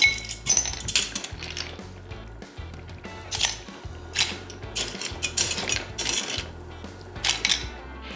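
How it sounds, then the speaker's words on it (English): Clams and broth being strained and sorted in a metal pan for spaghetti alle vongole, giving steady metallic clinks and scraping clatter with a rhythmic mechanical rattle, close and moderately loud, with no talking. "The next step is to strain the broth and separate the clams."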